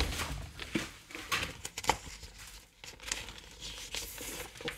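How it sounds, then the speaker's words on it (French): A sheet of white paper is handled and crinkled at close range during scrapbook and art journal crafting, giving irregular soft rustles and crackles throughout, quiet and without talk. "Je vais prendre une feuille de papier blanc."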